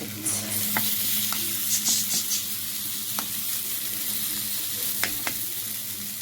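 Fava beans sizzle in a spoonful of oil in a home kitchen pan, a steady close frying hiss broken by a few sharp clinks and scrapes of stirring, with no speech.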